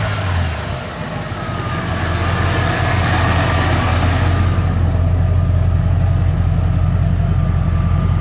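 A junkyard bullnose Ford truck engine, freshly swapped from EFI to a carburetor, idles steadily and loudly up close, its rev easing down into a low, even rumble.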